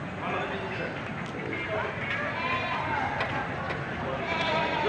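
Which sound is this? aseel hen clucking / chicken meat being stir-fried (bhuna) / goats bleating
goats bleating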